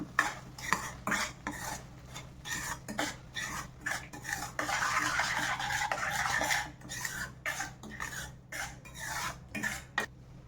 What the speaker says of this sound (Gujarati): વચ્ચે વચ્ચે આપણે ચમચો ફેરવતું રહેવાનું છે, મિક્સ કરતું રહેવાનું છે.